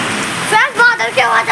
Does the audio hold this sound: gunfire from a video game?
no